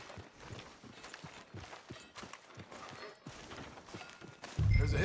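Horse hooves clip-clopping at a walk on a town street in Red Dead Redemption 2, an even, steady rhythm of hoof falls, fairly quiet and close, ending in a louder burst of sound.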